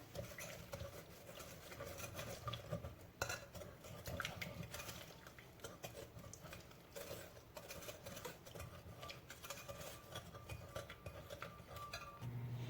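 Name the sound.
mixing lemon cake batter with a spatula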